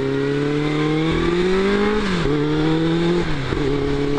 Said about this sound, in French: je suis pas sûr franchement que l'échappement soit d'origine parce qu'elle fait quand même un sacré bruit la moto